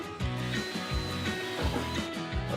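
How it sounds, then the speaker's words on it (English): A drill motor bores a hole in a garage workshop, its whining, grinding tone steady and close with rhythmic surges as the bit bites. "Now I gotta drill the other hole."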